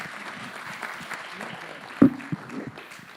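An audience at a green growth gathering clapping, light scattered applause with one sharp louder clap near the middle, while a voice talks over it.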